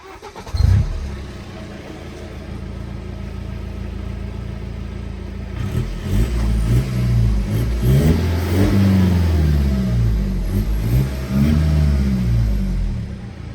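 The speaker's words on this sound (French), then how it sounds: "Là je vais vous faire écouter le son de ce humble diesel." A BMW 120d E81 Pack M diesel fitted with a particulate filter idles steadily nearby, then is revved repeatedly in loud, rising-and-falling bursts, with a faint turbo whistle over the rough diesel clatter.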